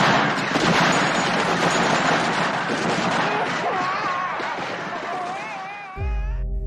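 Gunfire re-enacting the Jallianwala Bagh massacre: a dense, sustained roar of shots and crackling, with tonal wailing layered in toward the end, cut off abruptly by a low rumble.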